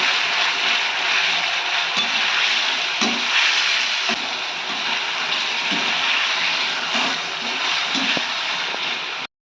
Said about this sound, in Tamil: ஊற வச்ச சிக்கனை போட்டுக்கலாம் நல்லா கலரி கொடுத்துக்கலாம்